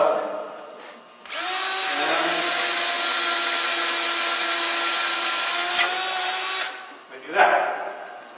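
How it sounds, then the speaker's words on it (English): Power drill boring a hole into wood with an auger bit, a steady whirring grind that starts abruptly, holds for about five seconds, then stops, followed by a brief knock. "Get all 4 of my holes drilled."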